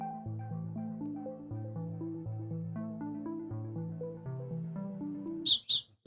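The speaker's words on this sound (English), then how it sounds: "The bird is like crazy loud." A loud bird outdoors lets out two quick, sharp, piercing chirps near the end, cutting over soft background music.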